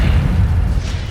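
Incendio fire spell cast in Hogwarts Legacy during a fight with the Pensieve Sentry, a loud, dense rumbling whoosh of flame that fills the short moment with heavy low-end boom.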